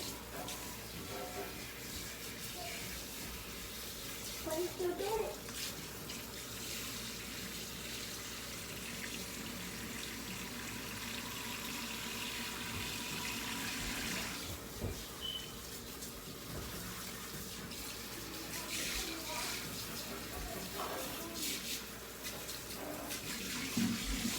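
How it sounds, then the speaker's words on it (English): Running water from a tap pours steadily over hair as bleach is rinsed out of a wig frontal, a continuous close rushing wash that shifts slightly as the hair moves under the stream. "And I'm going to make sure that we're rinsing all of the bleach out."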